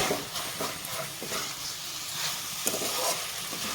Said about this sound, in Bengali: তো একদম হালকা হাতে নাড়িয়ে চাড়িয়ে নিতে হবে যাতে নিচে না লেগে যায়